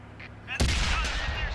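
In World of Tanks, an E5 tank fires a single sharp, loud cannon shot that rings out and rumbles into a short tail of battle noise.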